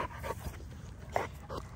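Quick, soft panting breaths from a nearby XL American Bully dog, with a faint whimper-like squeak in the middle.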